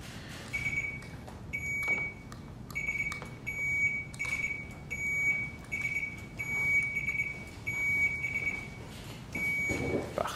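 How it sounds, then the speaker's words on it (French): Quiz buzzers are tested: a series of short electronic beeps repeats at a steady pace over a low room murmur, each tone bright and clipped. "On va tester les buzzers avant de commencer"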